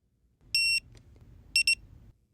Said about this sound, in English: You will hear 1 long and 2 short beeps to confirm.